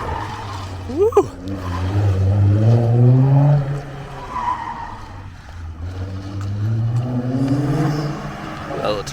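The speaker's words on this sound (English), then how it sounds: "A little turbo spool." A Nissan GT-R pulling away, its engine rising in pitch as it accelerates with a faint turbo whine, fairly near, then revving again, with a voice talking over it.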